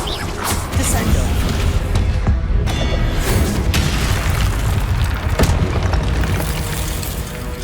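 Heavy booming slams from the Descendo spell smashing an enemy down in Hogwarts Legacy, loud crashing impacts and rumbling debris over several seconds amid dense combat noise, with a voice speaking underneath.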